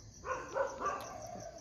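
Young nursing puppies abandoned by a roadside whimper and yip faintly, three or four thin cries spread over a second and a half against a quiet background.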